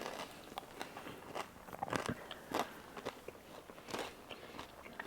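Crisp crunching bites into a toasted crouton topped with monkfish and garlicky rouille from a Mediterranean bourride, with repeated close chewing crackles throughout and no talk.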